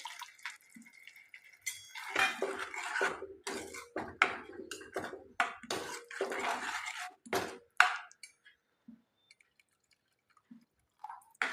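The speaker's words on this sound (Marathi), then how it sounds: "आता आपण यामध्ये पाणी घालूया।" Hot water poured into a pan of hot oil while cooking egg curry: sputtering, splashing bursts build over several seconds and then trail off into a few faint drips and clinks.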